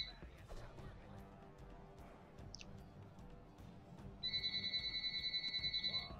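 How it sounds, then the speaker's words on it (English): A phone starts ringing partway through with a repeating electronic trill, fairly loud and rhythmic, following a stretch of quieter background sounds. "My phone is ringing, and I suppose you can hear it"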